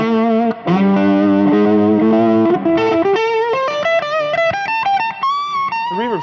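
Electric guitar played through a blackface amp with reverb, sustained chords sliding into a rising single-note melodic run, loud and close with a smooth reverb wash and no voices.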